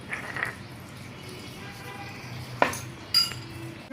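Ginger and garlic paste being stirred with water in a bowl gives quiet background scraping, with a few sharp clinks of a spoon against the bowl standing out near the end.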